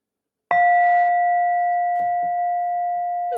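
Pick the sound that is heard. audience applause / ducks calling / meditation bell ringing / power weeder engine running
meditation bell ringing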